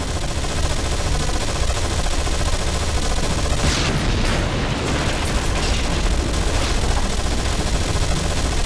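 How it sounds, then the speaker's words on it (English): Squad gunfire in the video game Anomaly 2: a dense, continuous barrage of rapid shots and booming blasts, loud and unbroken throughout, with no voices. "But if they keep firing, their rate of fire increases."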